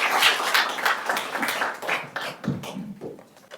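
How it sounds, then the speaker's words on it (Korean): Audience clapping at the launch ceremony of a memorial committee, a busy patter of hands that starts full and thins out toward the end, fairly close in a hall. "여러분 큰 박수 부탁드리겠습니다."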